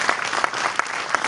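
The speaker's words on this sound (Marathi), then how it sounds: "जरा जोरदार टाळ्या होऊन जाऊ द्या" Steady applause from an audience at an award ceremony in Maharashtra honouring Niranjan Takle, a dense wash of clapping with a few sharper bursts, fairly close and continuous with no talk.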